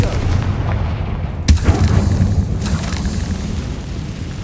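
A Confringo spell blast in the video game Hogwarts Legacy: one sudden, loud explosive boom rings out over a rumbling low background, then a fainter second burst follows.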